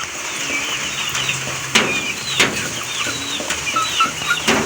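Chickens and many small chicks on a farm, a steady chorus of high peeping with occasional louder clucks, close and continuous.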